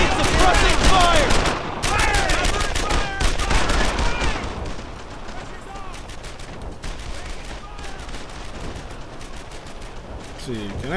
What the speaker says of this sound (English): Paddock! I need suppressing fire!